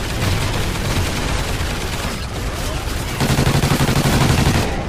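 Sustained rapid gunfire in Call of Duty Ghosts Extinction, loud and close, with a dense continuous stream of shots that briefly eases before a heavier rhythmic burst near the end.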